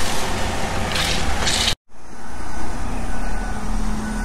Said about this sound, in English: the truck can reconfigure itself and reach up in here to get this wall